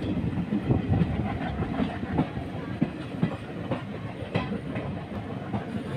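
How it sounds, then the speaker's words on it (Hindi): An electric WAP-5 locomotive passes through Kollam railway station, giving a steady rumble with repeated clickety-clack wheel beats and faint hiss, moderately loud and continuous. "यहाँ से जो ये साइड में लोकोमोटिव जा रहा है, इलेक्ट्रिक लोकोमोटिव WAP-5"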